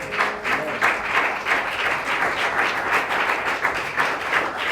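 A church congregation applauding during a sermon, a dense steady burst of many hands clapping that fills the space, loud and continuous with no voices over it.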